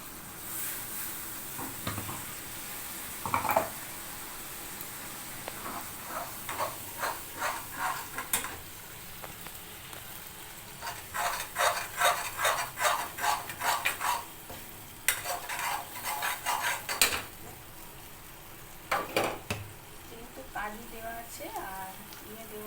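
White aloo dum simmers in a pot as it is stirred, bursts of quick scraping strokes coming in clusters over a soft sizzle, with brief gaps between them.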